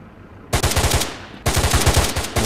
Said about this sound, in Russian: Ну, видим, да, вояки там сейчас заняты. По ком-то они стреляют.